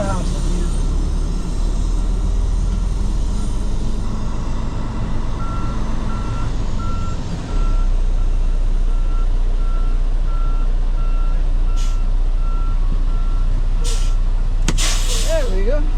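A truck backs up to park in front of a warehouse, its reversing alarm beeping in an even, repeated pattern over a low engine rumble, with short bursts of air hiss near the end.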